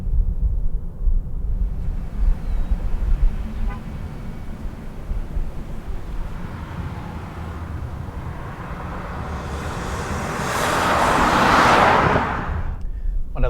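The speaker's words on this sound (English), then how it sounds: "when you're in sport, the motor doesn't really sound obnoxious" A 2015 Audi A3 in sport mode drives through curves, its engine a steady low drone inside the cabin with road and wind roar, swelling into a louder rush near the end.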